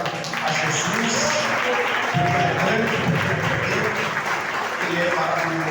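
Church congregation clapping in worship at a Friday service, steady dense applause throughout with a voice speaking and singing over it.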